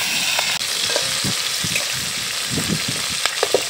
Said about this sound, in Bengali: তেল গরম হয়ে গেলে মাছটা দিয়ে দাও